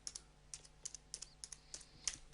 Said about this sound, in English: I'm just going to type in here page